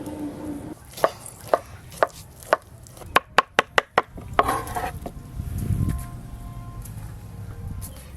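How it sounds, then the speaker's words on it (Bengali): A knife chopping onions on a board, sharp distinct strikes at first spaced about half a second apart, then a quick run of closer cuts, followed by softer scraping and rustling. "এই যে আমি এদিকে ঘুষো ঘুষো করে পেঁয়াজ কেটে নিচ্ছি।"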